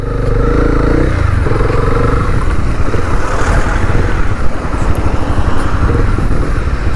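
Honda CB300R motorcycle idling and then pulling away, a loud, close engine drone heavily mixed with wind buffeting on the microphone, with no talk.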